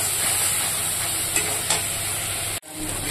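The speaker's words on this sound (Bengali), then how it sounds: "এবার আমি মশলাটাকে আগে কষিয়ে নিব।" A paste of onion, garlic, ginger and green chili sizzles as it is sautéed in a pan for a jackfruit curry. A loud, steady hiss fills the clip, with a couple of brief stirring clatters and a sudden short dropout near the end.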